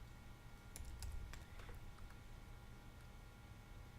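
Several quick keystrokes on a computer keyboard, scattered clicks clustered early and mid-way, fairly faint over a steady low background hum.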